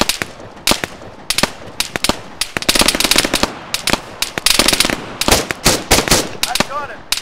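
Rapid gunfire in ARMA 3 during resistance-style combat, with dense automatic bursts and sharp single shots crackling loudly and close, in tight clusters with short gaps between volleys.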